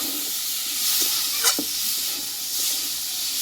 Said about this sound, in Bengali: এই ছোলার ডালটা দেওয়ার পরে মশলার সঙ্গে ভালোভাবে আমি একটু কষিয়ে নেব